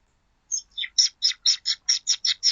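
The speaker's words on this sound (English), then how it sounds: "of birds chirping." A run of about ten short bird chirps in steady rhythm, bright and clear against silence, fairly close.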